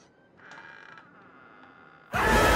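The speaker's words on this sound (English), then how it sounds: "Let's open the door." An old door in the horror video game Outlast creaks open with a thin, drawn-out squeal, then a loud burst of noise cuts in abruptly at the end.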